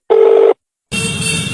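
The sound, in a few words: phone dialing a call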